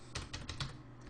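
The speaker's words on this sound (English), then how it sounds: "and we're going to type in" A computer keyboard being typed on in a quick burst of about six crisp, close keystrokes, entering a web address into a browser, with no talk.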